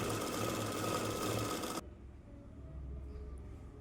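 Sewing machine stitching a folded hem on a Punjabi dress, a loud, close, steady whirring run that stops abruptly partway through, leaving a quiet room.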